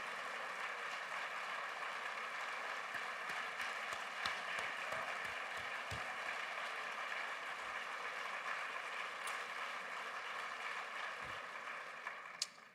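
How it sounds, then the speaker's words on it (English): Applause and a standing ovation fill a large hall at a State of the City address, a continuous distant wash of clapping crowd with a few sharper thumps. "That deserves another round of applause and another standing ovation."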